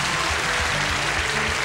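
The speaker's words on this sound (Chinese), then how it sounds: "大家掌声鼓励一下啊！" A studio audience applauds at a television variety show: a steady, dense wash of clapping that fills the whole short moment with no voices on top.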